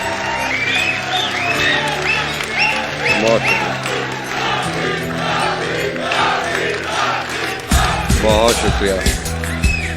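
An audience at an Urdu mushaira claps and cheers to welcome a poet to the stage, a loud, lively crowd sound with voices mixed through it and a sharper burst of noise near the end.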